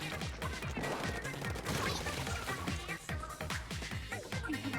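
Rapid, repeated cannon fire bursts out in Splatoon 2, a dense rhythmic volley of punchy blasts that keeps going with only short breaks, played without talk.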